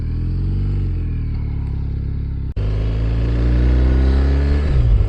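A BMW R1250 RS motorcycle's boxer engine revs loud and close, a steady throaty drone that cuts off briefly, then climbs in pitch as the throttle opens again.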